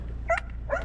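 A dog gives two short, thin yips or barks in quick succession, close by, over a steady low hum outdoors in snowy Poland.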